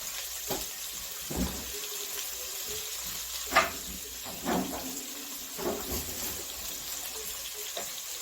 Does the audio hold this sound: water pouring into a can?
yes